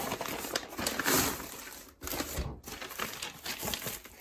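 Heavy plastic and paper packaging crinkles and rustles loudly up close, in continuous crackling bursts with a brief pause midway.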